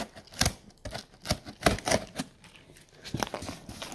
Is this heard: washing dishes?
no